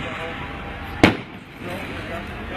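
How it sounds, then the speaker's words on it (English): A single sharp firework burst cracks out once at night in an old orchard in Maine, standing out over a steady background hiss, with voices nearby. "Look at those fireworks landing."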